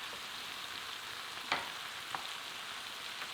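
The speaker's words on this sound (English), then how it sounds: "Cook them for about 3 to 4 minutes, moving the mushrooms around until they start to soften slightly." Sliced chestnut mushrooms fry in a pan with a steady, even sizzle throughout, broken by a couple of brief clicks or scrapes as they are moved around.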